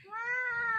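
A single drawn-out cat meow, close and clear, rising slightly and holding steady for under a second with no talk over it.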